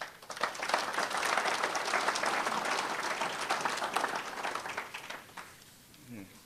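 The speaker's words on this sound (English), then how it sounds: "Give him a round of applause, please." A sustained round of applause from an audience, dense and steady clapping that fills the room before tapering off at the end.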